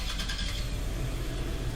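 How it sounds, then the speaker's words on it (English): A pickup truck engine starting and running, a short steady mid-pitched idle rumble heard up close with no talk over it. "let's go ahead and get in the car, see how it sounds."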